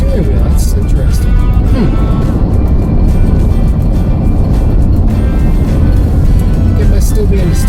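A 2002 Chevrolet Suburban on a test drive after a front end rebuild gives a loud, constant road and engine roar with some clunks from the front, heard from inside the cab.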